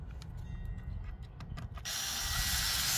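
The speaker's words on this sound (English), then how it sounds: "he's just fastening it together with the screws" Screws are driven into the wooden corner of a chicken run gate, with ratcheting, grinding mechanical clicks that give way to a louder, steady rushing whir close by.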